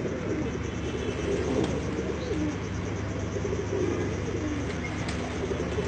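Domestic pigeons, a flock of about eight to ten, coo in low, repeated throaty phrases that overlap steadily against a constant background hiss, with no talking.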